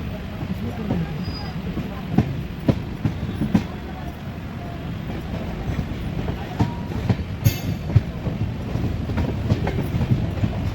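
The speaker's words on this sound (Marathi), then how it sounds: "आपली ट्रेन पुणे जंक्शनवर पोहोचते." Konark Express passenger train running on rails as it nears Pune, with a steady low rumble and repeated wheel clicks and knocks on the track, close and continuous, with faint voices in the background.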